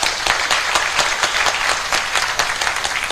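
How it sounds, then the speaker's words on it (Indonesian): A seated audience at a health and dhikr talk bursts into dense, loud applause, a steady wash of many hands clapping that continues evenly throughout. "Tepuk tangan untuk kita semua."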